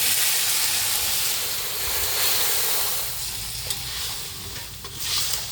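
Water poured into a pan of frying potato curry with green chillies, bursting into a loud rushing hiss of steam and sizzle that gradually settles, with a few stirring clinks near the end.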